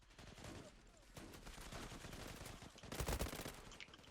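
M4A1 rifle gunfire in the shooter game Zula, rapid automatic bursts rattling on and off, with a heavier close burst near the end, over a faint game background.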